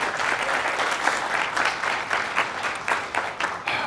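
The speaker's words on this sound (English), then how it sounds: "I think you got to give these guys a round of applause for all that they do" A conference audience gives a round of applause, a burst of many hands clapping at once with uneven, rippling peaks that carry on steadily for a few seconds.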